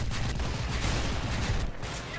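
Dense gunfire crackles in an online shooter battle, a continuous fusillade of overlapping rapid shots lasting throughout without a break.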